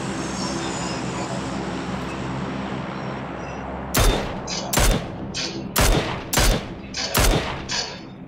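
Gunfire in the PLAYERUNKNOWN'S BATTLEGROUNDS video game, five sharp loud shots at a steady pace following a stretch of ambient rumble, close and punchy with no talking.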